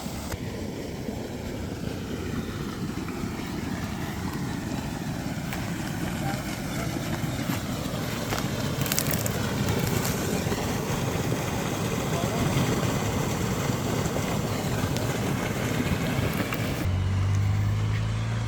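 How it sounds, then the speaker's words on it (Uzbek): An 18 kW farm irrigation water pump runs while pumping water out, producing a loud, continuous roar of motor and rushing water that stays steady across the whole stretch. "Endi bo'lsa suv chiqishini ko'rsatamiz."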